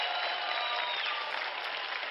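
Applause sounds as a steady, hissing wash of clapping for the restored KW camera at a Hawaiian volcano, fairly faint and even throughout with no voices over it.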